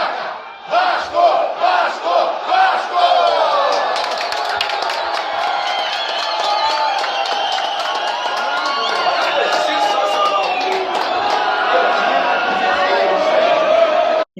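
Vasco da Gama football supporters shout the rhythmic "Casaca" chant together, starting in sharp unison bursts and then settling into a loud, sustained crowd roar close by.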